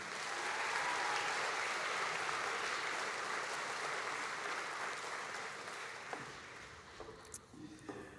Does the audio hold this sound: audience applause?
yes